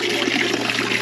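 Water is sprayed as a fine mist into a snake enclosure, a steady close hissing spray that lasts the whole moment, loud and alone without speech.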